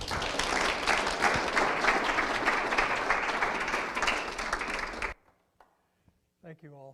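An audience at a public library author talk welcomes an author with dense, sustained applause for about five seconds, then it stops abruptly, leaving near silence and a voice starting to speak.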